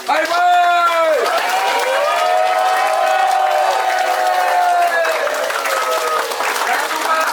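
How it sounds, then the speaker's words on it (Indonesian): Crowd of staff at an anniversary gathering breaking into sustained clapping and cheering as a farewell, loud and continuous throughout, with voices calling out over the applause. "Tepuk tangan buat bye-bye"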